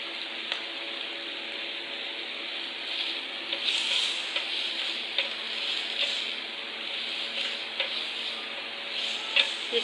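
Pizza ingredients seasoned with black pepper powder fry in a pot, giving a steady, soft sizzle with occasional light clicks and stirring taps, faint and continuous with no talking.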